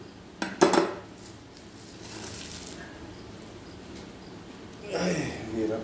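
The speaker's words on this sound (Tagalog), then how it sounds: "So, hugasan ko muna itong balde" Clanks and knocks from a plastic bucket being washed during night-time cooking, several sharp hits near the start and more rinsing clatter near the end.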